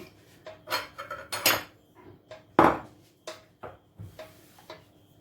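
Grated cheese filling for rolled sandwich-style mhajeb is stirred in a bowl, irregular clinks and scrapes of a utensil against the dish, fairly close, with no talking.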